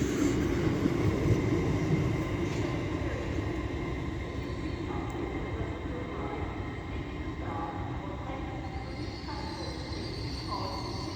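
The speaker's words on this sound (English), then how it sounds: "Now getting ready to depart is the LNER Azuma service up to Edinburgh Waverley." An LNER Azuma train hums and rumbles steadily at close range at York station, with a low mechanical drone and faint tonal whines, no voices.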